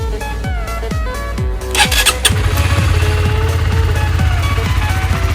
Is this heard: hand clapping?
no